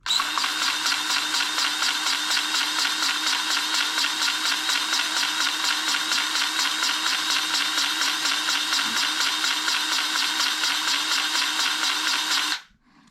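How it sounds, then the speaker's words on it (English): A grease gun pumping grease through a quick-connect fitting on a DIY dump trailer gives a steady, fast mechanical clatter. It runs continuously and close for about twelve seconds, then stops abruptly. "pull the trigger, and fill this with grease"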